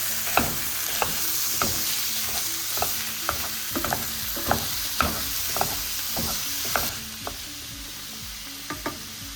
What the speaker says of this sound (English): we're just gonna heat up a pan, add a little bit of oil, add our beef, and then we're gonna break it up